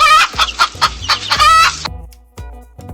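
A rooster crows loudly and close, with one long drawn-out call followed by short clucks trailing off.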